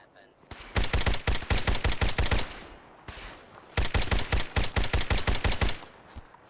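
A gun in Fallout 4 fires in two loud, rapid automatic bursts of roughly a dozen shots each, separated by a short pause, with no talking.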